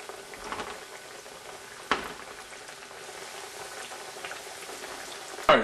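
A fresh batch of pork chops fries in hot oil, giving a soft, steady crackling sizzle with a couple of sharper pops, no voices.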